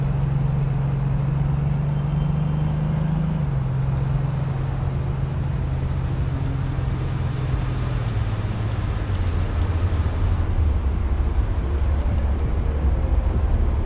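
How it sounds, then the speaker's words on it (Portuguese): A car in Big Ambitions drives nearby with a steady, droning engine hum whose low pitch shifts slowly downward, a continuous moderate rumble with no talking. "estão ouvindo o som de um outro carro aqui perto de mim"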